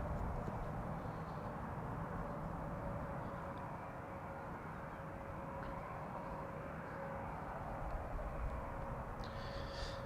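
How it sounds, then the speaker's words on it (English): A Qatar Airways Boeing 777 freighter arriving at Amsterdam Schiphol on a sunny day, heard as a steady distant jet roar with a faint tonal whine, holding evenly throughout with no talking. "Qatar arriving from Doha, 777 freighter."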